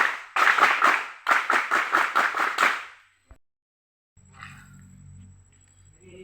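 Scout group doing the rhythmic Pramuka clap at an opening ceremony: a fast, tightly synchronized pattern of sharp group claps in bursts, ending abruptly, followed by faint room noise.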